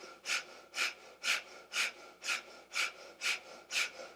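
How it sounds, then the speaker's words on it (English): Kapalabhati breath of fire in a yoga practice: eight sharp, forceful nasal exhales in a steady, even rhythm about two per second, close and clear with no talking. "So the exhale, the belly jets in, and you exhale sharply out the nose."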